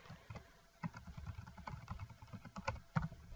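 Computer keyboard typing comes in quick, irregular keystrokes, faint and close, over a low background hum with no talking.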